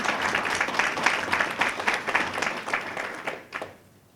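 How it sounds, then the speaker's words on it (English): An audience at a community learning event on Asian culture breaks into a sustained round of applause, dense and steady clapping that fades out near the end. "Let's give him a round of applause."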